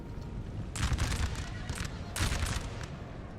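Massed musket volleys and artillery fire crackle across a Napoleonic Total War 3 battlefield, with dense bursts of gunfire swelling twice over a continuous low rumble of distant cannon.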